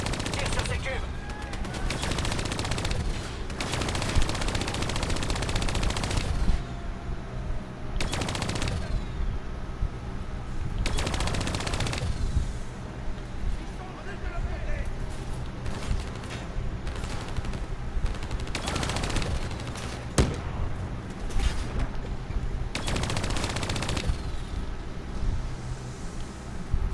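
Gunfire aimed at cubes in Call of Duty: Black Ops III, with repeated bursts of machine-gun fire and single shots recurring in loud clusters over a steady background of game noise.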